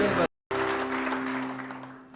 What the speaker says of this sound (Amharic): በደንብ አጨብጭቡ